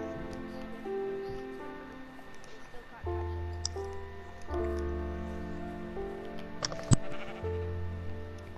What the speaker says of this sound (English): I'm gonna get a black and a white sheep.